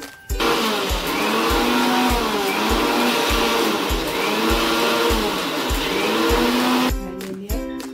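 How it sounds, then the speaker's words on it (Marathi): A mixer grinder whirs loudly and steadily while grinding soaked lentils into a coarse paste, its motor pitch wavering slightly as the batch churns, then cutting off near the end with a few clattering knocks. "हे डाळ आता मिक्सरच्या भांड्यात टाकायची आणि त्याला छान पिसून घ्यायची, अर्धी कच्ची अर्धी बारीक"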